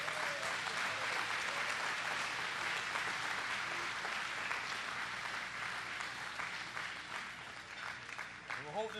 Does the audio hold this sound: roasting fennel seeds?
no